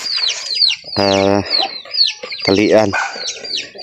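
Farm chickens cluck and squawk close by in short, busy bursts, with a couple of louder drawn-out calls rising above them, while a person speaks briefly.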